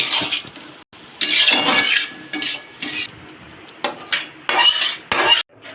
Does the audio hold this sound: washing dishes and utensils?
yes